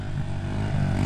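A dirt bike engine hums steadily and close, a droning motor tone holding throughout a brief moment at a desert riding trip.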